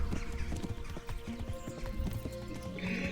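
Horse hooves clip-clop in steady irregular beats with a whinny, from the medieval game Kingdom Come: Deliverance, near and clear amid game ambience.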